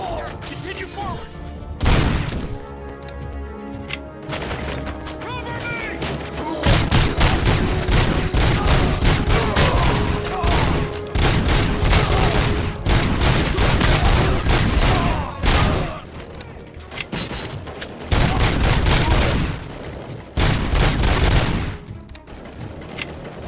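Sustained automatic gunfire in the video game Robocop: Rogue City, loud dense bursts of rapid shots with brief pauses and clanking impacts, voices calling out amid the shooting.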